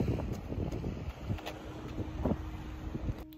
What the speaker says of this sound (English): Out for a walk, in the wind, hope that don't blow away.